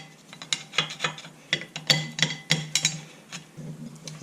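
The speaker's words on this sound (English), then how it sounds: "I'll just take a big screwdriver and work these off." Big screwdriver prying and working old brake pads off a C5 Corvette brake caliper, a close series of scraping, grinding metallic strokes in an uneven rhythm.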